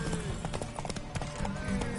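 Horse hooves galloping in The Witcher 3, a quick rhythmic clip-clop of repeated hoofbeats running through the short stretch at moderate volume.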